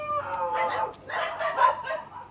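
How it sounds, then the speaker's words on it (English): Dogs in the Philippines yip and bark in short, fairly faint bursts during a walk, mixed in with a person talking nearby. "The doggies are saying hello."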